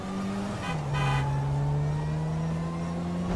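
A Mini driven in GTA 5 drones with a steady engine hum that dips in pitch after a brief rise, then holds an even tone close by with no talking.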